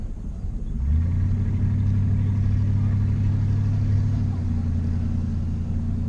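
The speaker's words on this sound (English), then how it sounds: "I like my mufflers I put on here. They sound pretty good." A Lincoln Town Car lowrider with aftermarket mufflers idles, then settles into a deep, steady, throaty rumble close by, with a low droning exhaust tone throughout.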